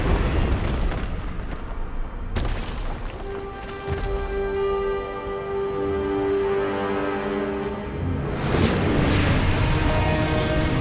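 A spell cast with a burst of energy in the Hogwarts Legacy game, loud booming blasts at the start and again near the end, with sustained tonal magical hum between, alone without talk.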